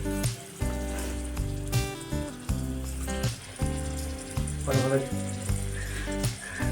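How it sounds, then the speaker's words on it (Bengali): Jute leaf fritters coated in gram flour batter fry in hot oil, giving a steady sizzle that continues for several seconds beneath a loud, tonal music bed. "এই দেখো শুরু হয়ে গেছে পাট ভাজা, গরমা গরম পাট ভাজা"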